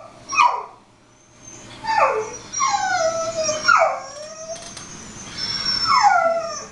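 A heavy dog gives a run of loud, close whines and howling yelps, mixed with a few barks in irregular bursts, while a person speaks briefly in the background.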